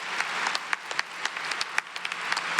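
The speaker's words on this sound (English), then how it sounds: "Give them a round of applause, people." Applause from a graduation ceremony audience, many hands clapping at a brisk pace with distinct sharp individual claps standing out across the crowd.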